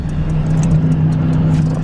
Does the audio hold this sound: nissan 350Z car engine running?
yes